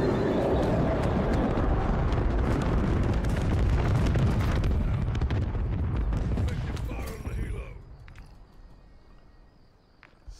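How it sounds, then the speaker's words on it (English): Heavy rumbling mortar blasts from an MW3 campaign mission roar continuously for several seconds, then fade into quieter battlefield ambience with voices faintly beneath. "another mortar strike."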